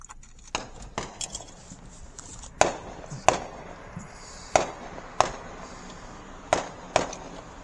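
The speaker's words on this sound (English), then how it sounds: "There's fireworks over there." Distant fireworks pop and crack in an outdoor evening setting in West Mifflin, about ten separate sharp bangs spaced irregularly over a quiet background, faint and far away.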